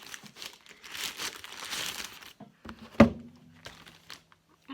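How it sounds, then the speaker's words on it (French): A parcel holding Christmas LED hanging decorations is unwrapped, with close crinkling plastic and paper rustles, then a sharp thunk and brief tearing before quieter handling and near silence; no talking. "Donc on va ouvrir ceci."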